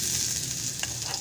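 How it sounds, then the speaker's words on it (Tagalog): Hot oil sizzles steadily and close in a pan as onion is sautéed for a Waray-style coconut and banana-heart dish, with a brief soft clink near the end and no speech. "Igigisa muna natin siya para mabango."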